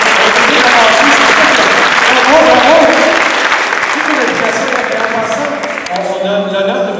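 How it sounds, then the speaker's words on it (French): Audience applause at a Hacking Health Québec hackathon in Quebec City, a dense, steady wash of clapping that keeps going for several seconds, with a voice speaking over it partway through. "Alors, on doit vous applaudir maintenant,"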